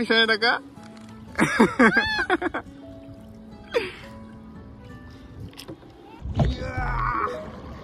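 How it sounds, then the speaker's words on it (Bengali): A wooden rowing boat is rowed on water, with scattered splashes and creaks of the oars under loud, lively talk between people on board. "নাও চালাও, দেখি কত তো যাইতে আরো"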